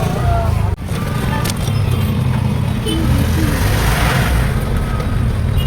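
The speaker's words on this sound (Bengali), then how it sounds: "এখানে আবার প্রচুর জ্যামও পড়ে গেছে" Road traffic stuck in a jam, a steady dense rumble of idling and creeping car, truck and bus engines close by, continuous throughout with a brief dip early on and faint voices mixed in.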